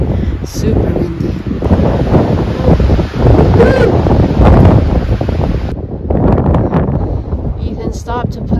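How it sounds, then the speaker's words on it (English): Strong wind roars across a cloudy mountain summit at Mitchell Peak in Sequoia National Park, buffeting the microphone in loud, steady gusts while a person talks in the middle. "Super windy."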